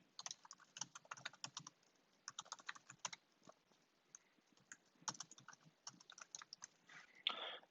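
Someone types on a computer keyboard in quick, irregular bursts of light clicks with short pauses, writing a commit message. The sound is close but faint, with no talk.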